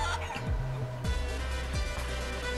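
Clucking from a small chicken character in the video game Guacamelee, several short pitched calls and chirps over a steady game background hum, fairly close and clear.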